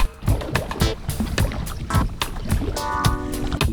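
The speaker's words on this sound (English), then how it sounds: "I'll stop yakking and we'll keep on paddling" Paddle strokes and water splashes from a sea kayak out on the sea off New Zealand, irregular close sloshes and drips with some wind on the microphone.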